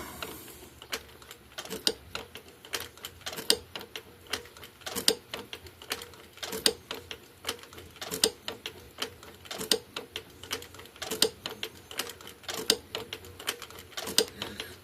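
A sewing machine stitches a Green Mountain leather wallet with a fast, regular mechanical ticking, each needle stroke a crisp click, close and steady at moderate volume with brief uneven pauses.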